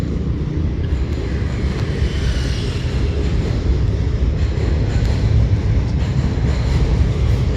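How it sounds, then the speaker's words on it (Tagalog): A train runs on an elevated track at night in Kwun Tong, a continuous loud rumbling roar that holds steady from start to finish. "So, sa taas yung train."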